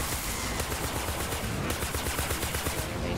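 Sustained automatic gunfire from Fortnite Save the World, with rapid, evenly spaced shots in a dense continuous burst, loud and close with no speech.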